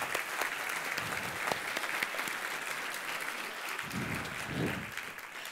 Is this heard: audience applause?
yes